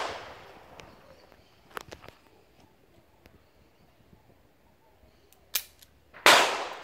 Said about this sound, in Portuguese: o primeiro disparo vai ser a seco